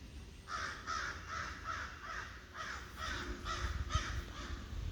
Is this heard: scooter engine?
no